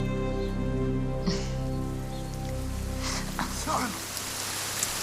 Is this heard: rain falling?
yes